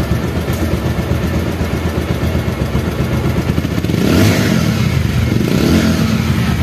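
A second-hand Bajaj Pulsar motorcycle engine runs steadily with a rough, continuous drone, then revs up and swells louder near the end.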